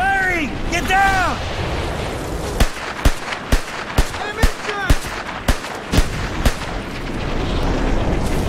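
Explosions in the video game Mercenaries 2, set amid combat: a rapid series of sharp, loud blasts and bangs repeat roughly every half second over rumbling battle noise, with whistling incoming rounds early on.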